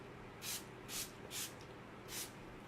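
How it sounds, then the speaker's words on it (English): Setting spray from a small travel bottle is misted onto a face in four short, soft hissing bursts, evenly spaced and close, with no talking. "I'm going to start by giving her a good spray of the Stay Spray"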